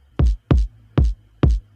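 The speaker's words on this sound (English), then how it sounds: "layered on top of that is this really hard sounding kick" Four hard, punchy kick drum hits in an even rhythm, each with a deep thump and a sharp click on top, isolated with no other sounds.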